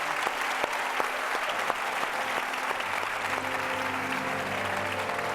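A church congregation applauds the Lord together in a sustained wave of clapping, steady and moderately distant, with a few sharper individual claps standing out and a hint of sustained tone underneath.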